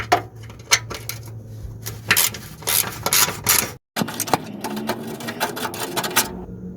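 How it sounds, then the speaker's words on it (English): Wrench or ratchet work loosening heat shield bolts on the underside of a Vauxhall Astra during a handbrake cable job: close, rapid metallic clicking and grinding bursts, with one brief gap of silence and no talking. "I'm just gonna loosen the heat shield now."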